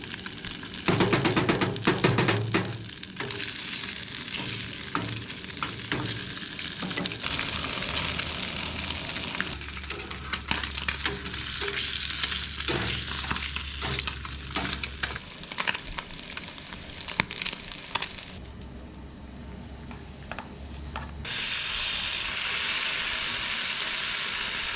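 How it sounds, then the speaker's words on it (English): Plain Spam frying in a pan at a campground, a continuous crackling sizzle that rises and falls in bursts over about twenty-five seconds, close and fairly loud with no talking. "Frying up the plain Spam first."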